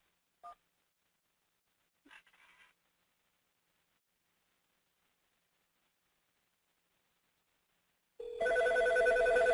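An office desk phone gives two short key tones while a number is dialed, followed by silence and then a loud, steady electronic ringing of an incoming call to an extension.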